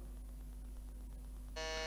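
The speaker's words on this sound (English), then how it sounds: "Harsh, can you just press the buzzer?" A faint low hum, then a quiz buzzer sounds near the end during a quiz competition, a short, bright electronic tone that is still going when the recording stops.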